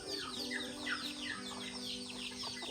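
Turkeys on a farm in Cagayan, Philippines, gobble and cluck faintly at a distance, a steady overlapping chorus of calls with no talk.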